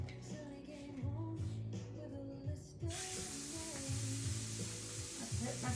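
Salt-and-pepper steaks hit a skillet on medium-high heat and set off a loud, steady sizzle partway through. Quiet tonal background sounds run underneath the whole time.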